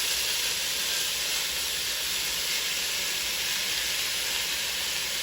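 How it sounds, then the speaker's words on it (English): Venison chunks searing in a hot Dutch oven, a steady, loud, unbroken hiss and sizzle that holds even throughout, with no talking. "You don't want to cook the meat all the way through. You just want to get a nice sear."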